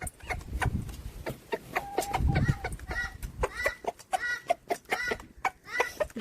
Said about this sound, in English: Chickens. Chickens. Chickens. Chickens. Chickens.